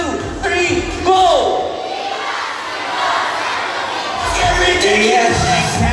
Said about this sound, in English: The cheer of the crowd, the applause of everybody.